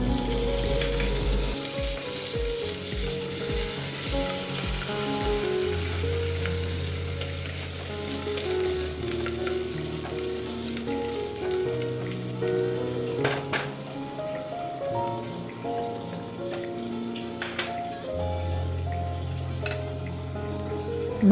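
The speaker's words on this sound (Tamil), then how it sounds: "2 மினிட்ஸ் வந்து இந்த எண்ணெயிலே வந்து ஃப்ரை பண்ணிக்கலாம்." Mutton soup ingredients sizzle and fry in hot oil in a pan, a steady close crackle that runs unbroken with occasional louder pops and faint stirring.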